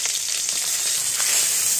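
Fish heads sizzle steadily in hot oil in a home kitchen pan, a dense, close, continuous hiss and crackle with no voices.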